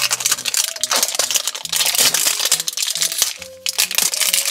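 Crinkly plastic wrapping on a small doll surprise toy is torn and rustled open up close, loud irregular crackles and rips with brief pauses.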